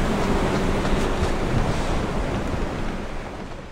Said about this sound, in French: Le vent hurle tellement qu'on a du mal à s'entendre.